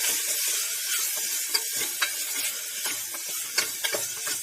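Chili powder, salt and turmeric being stirred into a savoury vegetable porridge, with steady scraping, clicking and a soft background sizzle, plus a few sharper clinks of the spoon against the pot, close by and without speech.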